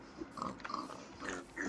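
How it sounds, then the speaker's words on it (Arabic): Pig grunting in the Minecraft video game, several short snorting grunts in quick succession at moderate loudness, with no talk over them. "يا خنزير يا معفن"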